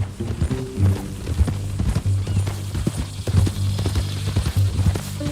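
Horse hooves clip-clop in a steady, close rhythm in the video game Red Dead Redemption 2, with low hoofbeats and a tack rattle under a quiet background.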